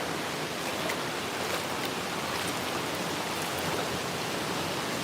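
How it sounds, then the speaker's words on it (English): Waterfall at a private Japanese onsen bath pours in a dense, even hiss that stays steady and moderately loud throughout, with no voices. "come with me now as I take you to the waterfall"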